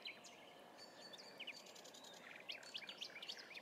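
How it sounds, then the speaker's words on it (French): Birds sing loudly by a river at night, a dense chorus of quick chirps and warbling phrases carried over a steady hiss of flowing water, with no voices. "on entend bien les oiseaux"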